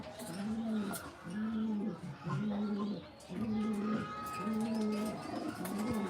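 Pigeons coo in a repeated rhythmic pattern, several close calls in steady succession, at a loft during pigeon race day with faint background voices.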